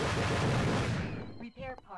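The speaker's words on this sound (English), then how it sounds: "you just have to, like, spam the shoot button" Rapid gunfire from repeatedly pressing the shoot button in the PS1 game Kileak: The DNA Imperative makes a dense, loud, continuous roar of shots that cuts off after about a second. A voice then talks briefly.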